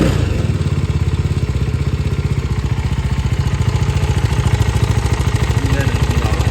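A CFMoto SR250 motorcycle engine, partly disassembled, runs steadily with a fast, rattling clatter from the cylinder head, loud and close throughout.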